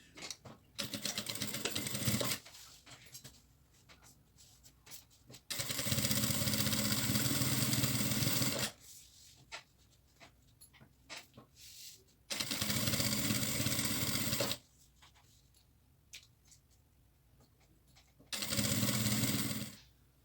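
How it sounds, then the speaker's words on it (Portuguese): Domestic sewing machine stitching pockets onto a bag made from decor fabric, running in three loud sustained bursts of several seconds each, separated by quieter pauses with faint handling noises. "E agora eu vou fazer a costura fixando os bolsos."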